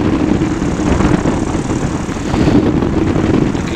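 Flexwing PeaBee microlight engine idling in flight on final approach, a steady low propeller drone mixed with rushing wind noise, continuous and fairly loud throughout.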